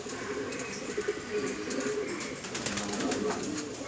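Racing pigeons coo at their loft, soft repeated throaty calls over a busy outdoor background, with faint chirps mixed in and no talking.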